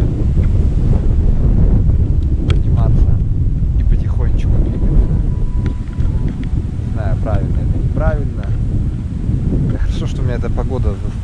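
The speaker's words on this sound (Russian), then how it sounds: "Против ветра такие порывы сильные, прям палатку вырывало." Strong, gusty storm wind near Lake Issyk-Kul in the Tian Shan, roaring steadily into the microphone for the whole stretch with surging gusts, while a voice speaks briefly over it.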